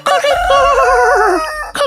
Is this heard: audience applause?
no